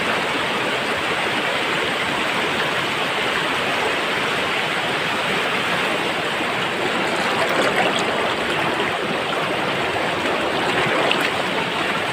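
Rushing mountain stream swollen after rain, its water heavy with white foam, a dense continuous roar close by that stays steady throughout with no voices over it.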